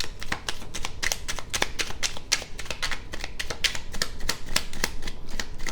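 A deck of oracle cards is shuffled with quick, crisp riffling taps in a rapid, steady rhythm that stays close and continuous without any talk over it.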